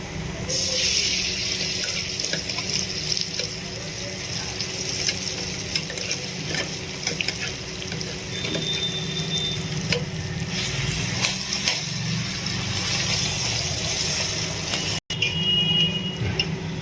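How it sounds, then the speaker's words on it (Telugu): A spoon scrapes and stirs as ground drumstick-leaf chutney is mixed into tempering in a pan, with the stove off and a soft sizzle continuing underneath, with intermittent clinks and a brief sharp knock near the end. "స్టవ్ ఆఫ్ చేసుకొని మిక్సీలో చేసుకున్న పచ్చడి వేసి కలుపుకుంటే అయిపోతుంది"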